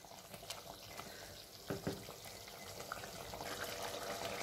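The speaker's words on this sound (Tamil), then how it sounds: "பாருங்கள், நல்லா கொதிக்க ஆரம்பிச்சிருச்சு." A pot of tomato pickle simmering in a pressure cooker gives off a soft, steady bubbling and sizzling, with a couple of brief stirring clatters partway through and no voices.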